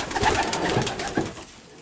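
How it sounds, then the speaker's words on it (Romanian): Racing pigeons cooing at a Romanian loft in Sibiu, soft throaty burbling coos overlapping close by against a slightly noisy background. "Mai avem aici un porumbel"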